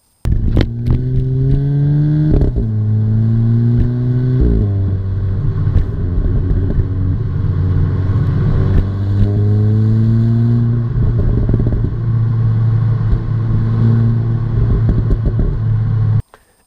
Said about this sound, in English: it's quite a noisy car, which is great because it gives it a lot of character